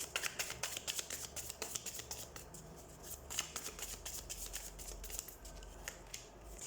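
Tarot cards being shuffled and drawn, a close, quiet stream of rapid papery riffles and flicks going on without a break, with no speech.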